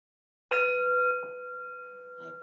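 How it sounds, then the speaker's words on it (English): A meditation bell in an online yin restorative yoga class strikes once softly, leaving a clear sustained ring with steady overtones that slowly fades, alone without talk. "My bell went, but it wasn't very loud."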